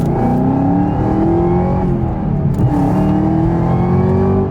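A 2022 Chevrolet Camaro ZL1 1LE accelerates hard, its engine roaring loud and close with a steadily rising pitch through the pull and a brief dip as it shifts.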